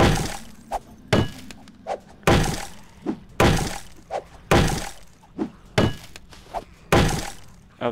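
Something breaking in the video game 7 Days to Die: heavy, hollow thunks with a glassy crunch land at a steady pace, about one strike per second, each followed by a softer knock. The hits sound close and clear, with no talking over them.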